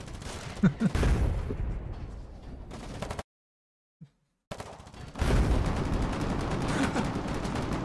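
Gunfire in the online war game Foxhole, with bursts of shots and automatic fire crackling along, a short silent gap, then a denser stretch of distant-sounding battle noise.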